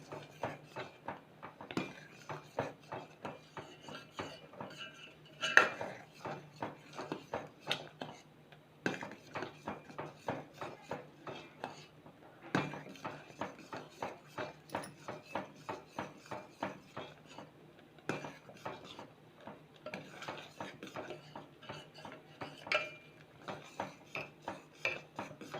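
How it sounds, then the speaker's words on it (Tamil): A spoon scraping and stirring milk in a pan while it boils for kulfi, steady rhythmic metallic rubs repeating every second or so at close range, faint and continuous. "கிளறிக்கிட்டே இருங்க, அப்போ தான் அடி பிடிக்காமல் இருக்கும்."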